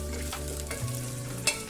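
Chopped coconut frying in a pan for broken wheat khara pongal, a brief, fairly quiet sizzle with a couple of scraping stirs and a light clink near the end.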